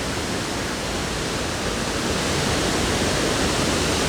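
Ezharakund Waterfalls in the Paithalmala valley of North Kerala roars as a dense, constant rush of falling water, loud and close with no break or other sound.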